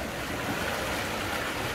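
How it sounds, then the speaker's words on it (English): Ocean waves crash onto the shore at Sabang, Puerto Galera in the Philippines while rain falls, a steady broad wash of surf and rain noise with no talking. "The waves are crashing."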